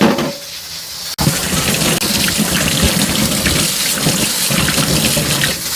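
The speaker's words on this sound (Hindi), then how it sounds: "इसको हम पानी से धोते हैं।" Steady loud rush of water pouring and splashing over dishwasher parts being rinsed, continuous broadband spray with a brief sharp knock near the start.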